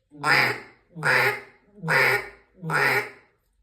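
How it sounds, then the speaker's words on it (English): Four evenly spaced, drawn-out quacks blown on a duck call sound loud and close, with a steady rhythm and short gaps between them. No other sounds. "now I'm gonna quack at them a little bit"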